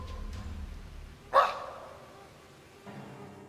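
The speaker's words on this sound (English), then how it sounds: "one of the most chilling noises is that of a growl or a bark" An unseen creature in leaves and branches gives one sharp, loud bark-like call in the middle, followed by fainter rustling and a softer low sound near the end, against quiet background.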